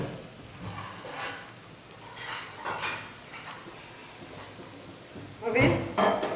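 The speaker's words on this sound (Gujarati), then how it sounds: "પછી હલાવી દઈએ આવી રીતના। શાકમાં એકદમ મિક્સ થઈ જાય એવી રીતે વ્યવસ્થિત હલાવી દેવાનું।" Gujarati okra curry stirred in a pan, with repeated spoon scrapes and clinks against the metal, moderately close, building to louder knocks toward the end.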